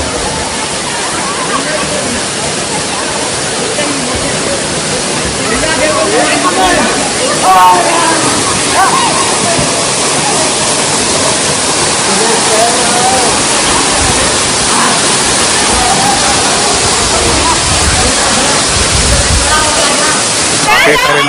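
Waterfall in Bastar rushes as a loud, constant broadband roar of falling and splashing water, with voices of people talking nearby mixed into the steady torrent.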